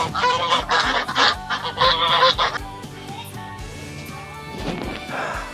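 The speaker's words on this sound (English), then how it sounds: "And we got some geese." Geese on a country farm on O'ahu honk loudly in a rapid cluster of calls near the start, then quieter farm ambience follows with a few fainter calls, close by and without talking.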